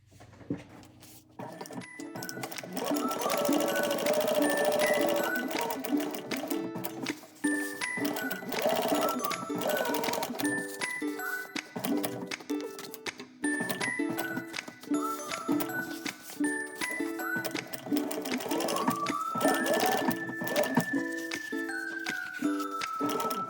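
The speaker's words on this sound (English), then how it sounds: "you're going to take it to the machine and you're going to top stitch all the way around the 3 edges" A sewing machine top-stitches around the three edges of a fabric purse, running in a fast, steady mechanical whir with brief pauses and changes in speed, close and prominent throughout.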